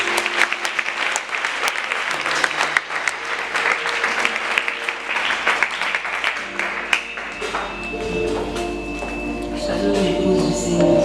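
Audience at a Sunday school closing ceremony applauding warmly, a dense burst of clapping from a crowd that carries through and tapers toward the end, with a voice briefly heard near the close.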